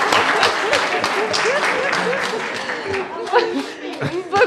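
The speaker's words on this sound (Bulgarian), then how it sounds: "Благодаря за аплодисментите!" Audience at a satsang gathering in Blagoevgrad claps steadily while voices talk and chuckle over the applause, the clapping staying close and fairly loud throughout.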